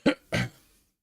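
A person clears their throat close to the mic in two quick, rough bursts, the second slightly longer, followed by quiet.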